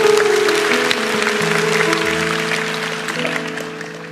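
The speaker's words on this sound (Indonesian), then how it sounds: "Yang percaya kasih tepuk tangan untuk Tuhan." A church congregation claps during a worship service, the applause fairly dense and fading slowly, with sustained organ or keyboard chords sounding beneath.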